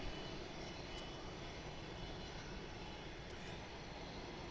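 Heavy jet airliners sit on the ground at Gatwick Airport during pushback, their engines giving a distant, steady broadband roar and whine that runs the whole stretch, quiet and unbroken.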